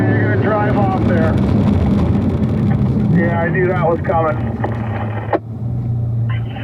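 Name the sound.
Corvette car engine running on race track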